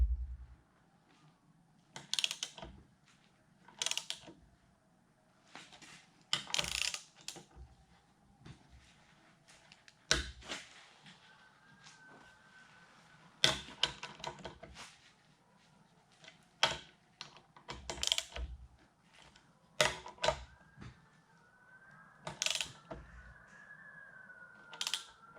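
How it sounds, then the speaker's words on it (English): Ratchet wrench clicking in bursts as bolts draw the carrier down onto a gear during a rebuild of an Oliver 1950T tractor's over/under sub-assembly, with loud repeated ratcheting runs separated by pauses of quieter low hum. "It's just drawing the gear down onto, or drawing the carrier down onto the gear."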